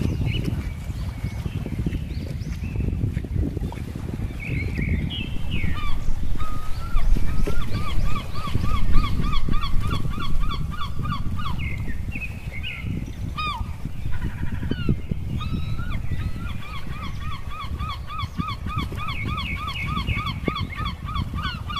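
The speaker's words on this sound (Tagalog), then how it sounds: "Napakarami pong ibon na ang tanging alam ko lamang po ay ang sigal." A large gathering of birds on Minasawa island in Quezon province. Repeated, rhythmic calls come from many birds at once and overlap continuously over a low background rumble, moderately close and with no one talking.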